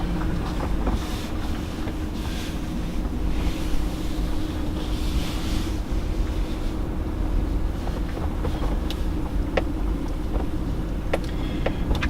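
River rapids rush between rock formations in a wooded state park, a steady, dense roar of flowing water that stays constant throughout with no voices.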